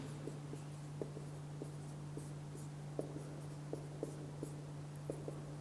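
Chalk or marker writing on a board during a physics lecture, with faint, evenly spaced taps and short strokes over a constant low electrical hum, recorded quietly and without talk.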